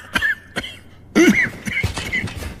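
A few sharp, dry coughs in a row, close by, with short pauses between them and no talking.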